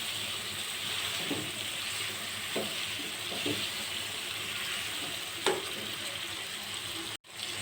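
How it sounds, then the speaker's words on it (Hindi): Spices, onion, tomato and chicken liver frying in a pan, a steady moderate sizzle with a few soft stirring scrapes, ending with a brief knock. "अच्छे से फ्राई कर लेना है मसालों को और सब प्याज और टमाटर कलेजी को।"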